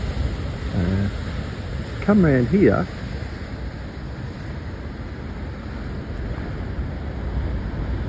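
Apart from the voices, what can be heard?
rough ocean surf off the wild coast of Tasmania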